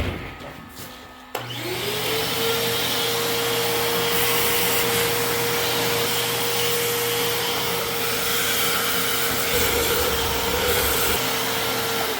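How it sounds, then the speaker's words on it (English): A vacuum cleaner switches on after a brief moment and runs with a steady, loud whine and roar, close by, continuing without a break. "Time to vacuum."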